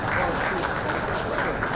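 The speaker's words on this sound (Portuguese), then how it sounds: "Palmas." Audience applause at a lecture on games in education, a dense, steady wash of clapping from a crowd with voices mixed in.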